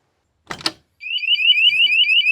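A couple of brief knocks, then a loud, shrill warbling electronic alarm from a homemade truck camper shell alarm starts up and keeps wailing.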